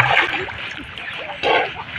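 A child learning to swim splashes water in short close bursts, with a louder surge near the end and faint voices mixed in.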